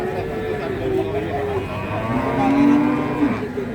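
Cattle moo repeatedly at the busy Babat Lamongan cattle market, with long, loud lowing calls rising and falling under steady crowd chatter and nearby talking.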